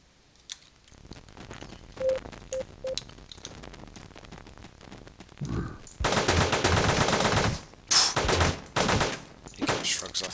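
Rifle fire in Teleglitch: after sparse clicks and small blips, loud rapid bursts of automatic shots erupt, rattling in dense strings with brief gaps between volleys.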